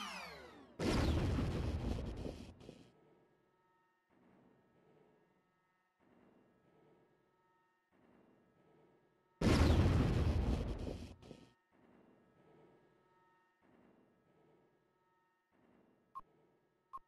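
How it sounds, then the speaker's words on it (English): Laser satellite strike in the real-time strategy game Warzone 2100, two loud, roaring blasts some seconds apart, each fading out, with faint rhythmic pulses and tones between and after them. "Laser satellite firing."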